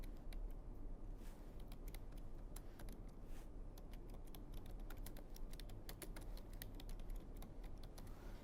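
A computer keyboard clatters in quick, uneven runs of key taps as text is typed into MS Word, with a low steady hum underneath and no speech.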